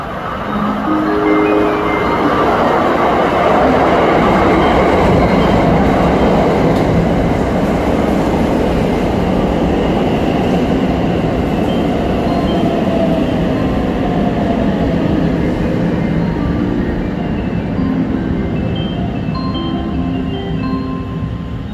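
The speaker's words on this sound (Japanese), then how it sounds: "列車が到着します。" A Shirasagi limited express train rolls into a Japanese station on the line toward Kaga Onsen and Komatsu, a loud, sustained rumble of wheels and rail noise with clatter and no voices.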